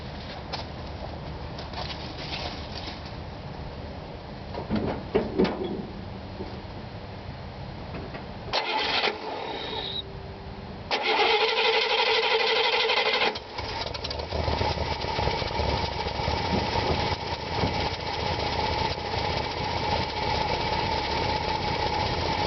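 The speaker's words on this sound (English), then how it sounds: "I'm gonna start this thing up for you now" A 1964 Buick LeSabre engine cranks, catches and settles into a steady idle, heard up close and fairly loud, with faint bird calls in the background.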